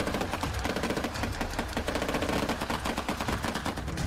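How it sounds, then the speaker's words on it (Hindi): Machine gun firing during Finnish soldiers' training in a forest, rapid repeated bursts of sharp cracks in quick rhythmic succession, loud and sustained throughout with no talk. "फिनलैंड के सैनिकों को जंगलों के अंदर एम्बुश करने और मशीन गन फायरिंग की ट्रेनिंग दी जा रही है।"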